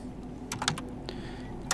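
Keystrokes on a computer keyboard as a Linux terminal command is entered, a short irregular burst of crisp clicks clustered in the middle with a final louder tap, close and alone.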